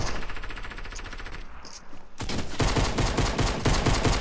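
Rapid bursts of gunfire in a Fortnite match, a steady rattle of shots at first, then a brief lull before louder, denser automatic fire erupts close by and continues to the end.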